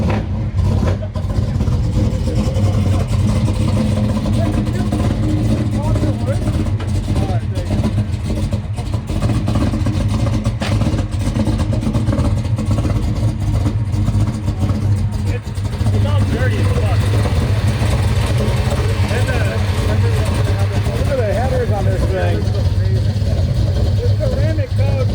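Chevy Jimmy with a 572 big block engine running loud and steady, a deep rumbling drone with occasional revs throughout, with people talking over it.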